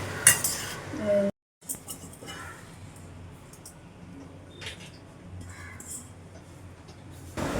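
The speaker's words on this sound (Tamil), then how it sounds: "இப்போ நல்லா மிக்ஸ் பண்ணிப்போம்" A spoon stirs and mixes food in a metal pot, with scraping and clinks at the start, a brief pause, then quieter intermittent scrapes and taps, close by.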